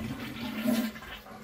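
A toilet is flushed to drain its water tank, a brief rushing gurgle of water with a low steady hum underneath, close and moderately loud.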